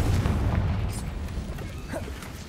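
A deep, booming blast from the Confringo spell in the Hogwarts Legacy video game, a low rumbling explosion fired at a giant spider, steady and heavy before slowly fading.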